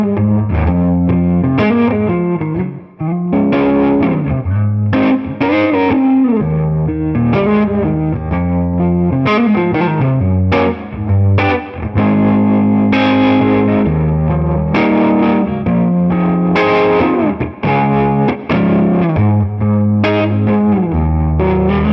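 An electric guitar on its neck pickup plays through a Bloomfield Drive tube distortion, with thick, sustained overdriven notes and chords carrying a busy melodic line continuously at a loud, steady level.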